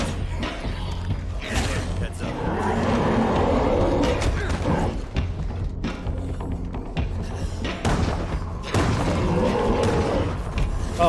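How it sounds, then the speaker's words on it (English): Enemies in a video game bang on a door, producing repeated heavy thuds and creaks in irregular bursts over a dense, rumbling game soundscape, moderately loud and continuous. "I see them banging on the door."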